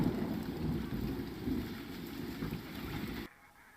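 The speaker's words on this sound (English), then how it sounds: "And initially I only heard the thunder, but that hail sound too. The rain sound is hail, yeah." A storm's steady hiss of hail and rain sits over a low thunder rumble, sustained and fairly faint throughout, then cuts off abruptly near the end.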